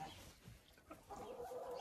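A black crested hen clucking in a layer flock's henhouse, soft low clucks from close by, quiet and brief, with no one talking.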